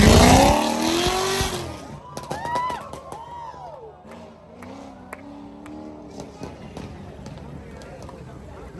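A supercharged, modified BMW 3 Series car at the Thrissur Motor Show revs hard and loud up close, its engine note rising and falling in sweeping pitch swoops before settling into a lower idle, with crowd noise behind.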